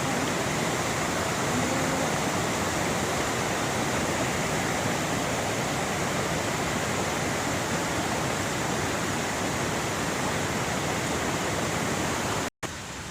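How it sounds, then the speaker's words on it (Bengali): Fresh water rushes steadily over a road, a constant broadband wash of flowing water with no pauses, fairly even and moderately loud throughout. "এই রাস্তার ওপর দিয়ে জল যাচ্ছে, ফ্রেশ ওয়াটার।"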